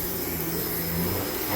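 A SIBO vacuum cleaner lifts dry soil from carpet, giving a steady, fairly quiet motor whine that stays even throughout with no voices.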